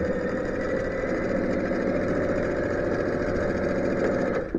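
A sewing machine stitching the first three rows of a quilt together runs in one steady, continuous mechanical hum close by, holding an even level throughout and cutting off at the very end.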